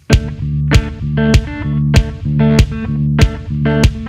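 A layered musical loop repeats with a strong percussive hit roughly every 0.6 seconds over sustained harmonic tones, steady and upfront, no voices.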